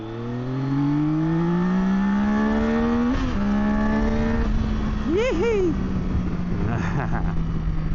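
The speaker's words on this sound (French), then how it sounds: "le son du 3 cylindres n'est pas exubérant là avec la cartouche d'origine" A 2026 Yamaha Tracer 9 three-cylinder engine with its stock exhaust hums and rises in pitch through the gears, fairly subdued and close, with a rider's voice talking over it.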